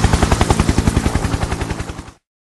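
A rapid burst of automatic gunfire rattles loudly in a steady stream of about twenty evenly spaced shots, then cuts off abruptly into silence, used as a comic dub sound effect.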